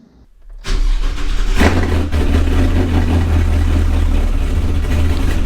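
A 1964 Chevelle engine cranks and fires up, then settles into a loud, steady, throaty idle that continues while the car is driven, with a brief rev near the start.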